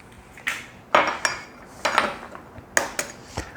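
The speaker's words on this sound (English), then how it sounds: "To my 3/4 of a cup, I'm gonna add 3 eggs." Eggs being cracked and dropped into a measuring cup of mix for a Mexican impossible pie, with several sharp clinks and taps of shell against glass or metal spaced over a few seconds, close and alone.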